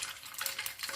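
Pork belly slices frying in hot oil for sisig in a home kitchen, a close, continuous crackling sizzle with faint stirring.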